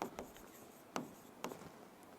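A pen scratches across paper as a full name is handwritten, soft close strokes with a few sharper taps, quiet and alone.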